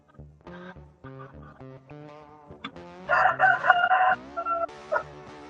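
Chickens at a backyard coop: a rooster's loud, drawn-out crows and a hen's clucking, repeated in bursts over several seconds and growing louder near the end, close by with no talk.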